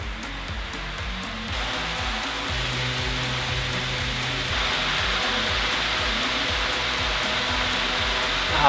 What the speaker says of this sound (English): the key feature of this fan is misting, so I figured I better give that a go